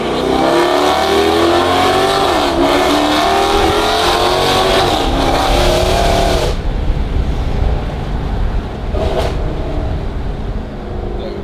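A Dodge Hellcat fitted with a Valvetronic Designs titanium exhaust revs and accelerates, loud and close, its deep engine note climbing for several seconds before easing off into a lower rumble.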